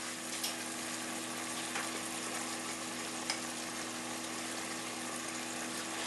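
Pork with garlic and onions frying in a pan, a steady broadband sizzle with a few faint clinks, continuous and fairly quiet throughout, no voices.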